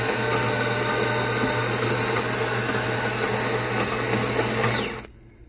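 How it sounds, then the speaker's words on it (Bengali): Automatic espresso machine pulling a single shot, a loud steady pump whine and hum running close by for several seconds before cutting off abruptly near the end. "আমি সিঙ্গেল শট এসপ্রেসো নিয়ে নেব।"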